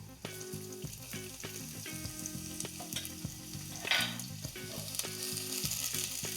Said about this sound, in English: Now we're gonna add our red onions.